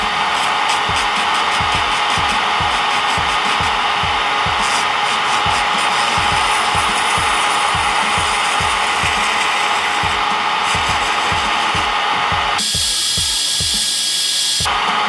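A cheap MelodySusie PC-180F cordless nail drill whirs steadily at high speed, a continuous close electric motor whine with a faint rattling pulse, running alone for the whole stretch before its pitch shifts near the end.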